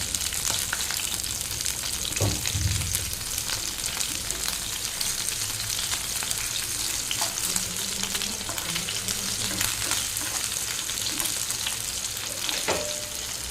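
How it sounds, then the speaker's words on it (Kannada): Kodde fish shallow-fries in a pan, a constant loud sizzle and hiss with a few bubbling pops and light utensil clicks throughout, close by and with no voices. "ಕೊಡ್ಡೆ ಮೀನನ್ನು ಫ್ರೈ ಮಾಡಲಿಕ್ಕೆ ಇಟ್ಟಿದ್ದೇನೆ"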